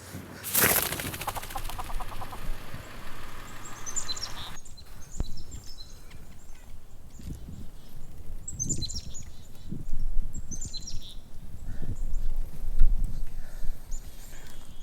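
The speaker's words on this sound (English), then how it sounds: "Finally ran into a flock of my first songbirds of the day, Lapland longspurs" A flock of Lapland longspurs calls in Minnesota's Big Bog, giving short, high chirping notes in scattered bursts over soft outdoor background noise.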